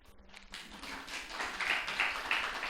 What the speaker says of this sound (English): Anybody who came just to listen, actually, you get the first round of applause